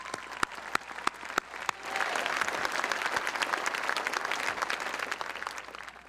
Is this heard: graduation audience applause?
yes